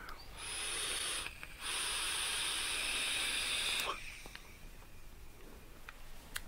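Vapour hissing from an IJOY Diamond PD270 vape kit built for big clouds: a close, steady airy rush in two long draws split by a brief pause, then fading into quiet room tone.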